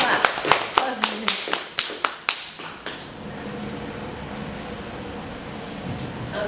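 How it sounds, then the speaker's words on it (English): Clapping at a city candidate forum, a short run of about a dozen distinct, fairly close claps over three seconds, then fading into quiet room noise with a faint hum. "Now we can clap after. Now we can clap."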